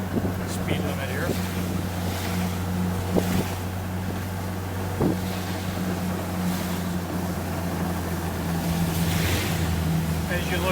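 A 1957 Austin Champ cruises at about 30 mph, its engine a steady low drone with continuous wind rush across the microphone, a few faint knocks and bumps along the way.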